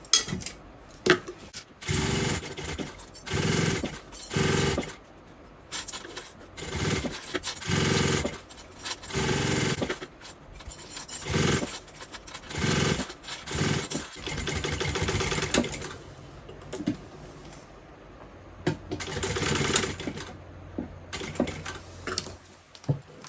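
A sewing machine stitching a bucket bag in repeated loud bursts of rapid whirring, with short pauses between runs and a softer hum toward the end.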